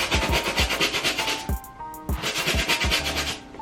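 A brush scrubs a shoe clean, working in one main spot with quick repeated rubbing strokes in two bursts separated by a short pause, close and fairly loud with no talking.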